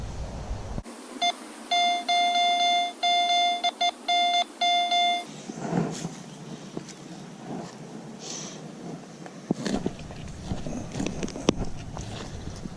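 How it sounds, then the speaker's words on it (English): A Garrett AT Pro metal detector gives a series of sharp, evenly pitched electronic beeps in short bursts near the start, followed by rustling and footsteps on a trail. "I got the metal detector and stuff."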